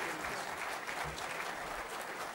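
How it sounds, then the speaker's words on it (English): Steady, dense audience applause for the speakers at the close of the Denning–Spencer climate debate at ICCC6, a continuous wash of many hands clapping at moderate volume with no talk over it. "One more round of applause for our speakers."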